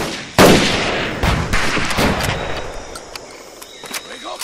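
Gunfire in Medal of Honor Pacific Assault on Makin Atoll, a loud close shot followed by several sharp bursts and scattered reports that fade into a faint ringing tail.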